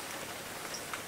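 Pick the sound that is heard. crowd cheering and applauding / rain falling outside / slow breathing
rain falling outside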